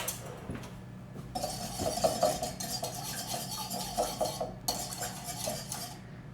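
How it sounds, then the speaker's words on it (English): Grapeseed oil dressing for a kale salad is whisked in a bowl, giving continuous rapid metallic clinking and stirring close by. "So I'm just gonna whisk that together."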